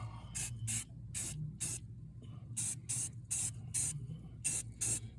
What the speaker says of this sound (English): Oh, gotta respray the back of it.